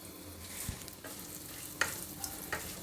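Quiet sizzling of curry leaves, dried red chillies and asafoetida roasting in hot oil, with a few soft stirring clinks and scrapes scattered through, faint and close with no voices.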